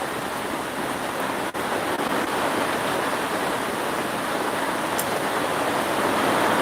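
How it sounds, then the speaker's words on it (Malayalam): Heavy rain pours down in Wayanad in a steady, dense hiss, close and unbroken throughout, with no voices. "ഇരുട് കുത്തി മഴ പെയ്യുന്നുണ്ട്"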